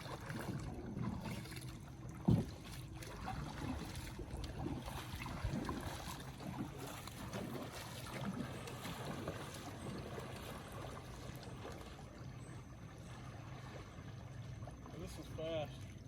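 A small kayak glides across lake water at a campground on Lake Guntersville, Alabama, with a steady, faint wash of water and paddle movement, one brief knock, and soft voices in the background.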